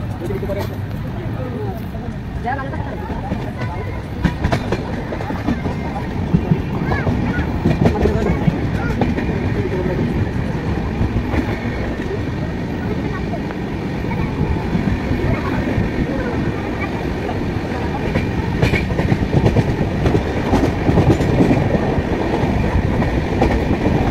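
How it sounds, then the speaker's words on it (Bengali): The Howrah–Lalkuan SF Express pulls out of Bardhaman Junction, its carriages rumbling steadily with rhythmic rail clatter and occasional knocks heard from on board, while voices carry faintly through the coach. "আমাদের ট্রেন ছেড়ে দিল বর্ধমান জংশন।"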